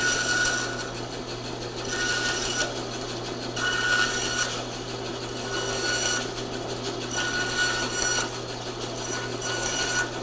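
A power saw cuts tree-limb twigs into dowel lengths, the whine rising into bursts of cutting roughly every two seconds over a steady motor hum.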